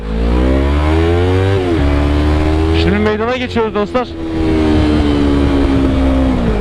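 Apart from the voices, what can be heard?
motorcycle with header exhaust riding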